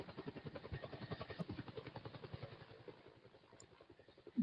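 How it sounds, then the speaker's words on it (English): A helicopter engine in a VR video game whirs with rapid, rhythmic rotor pulses throughout, steady and fairly close, dipping slightly in level before a thump at the end. "Yes, I can drive the helicopter around."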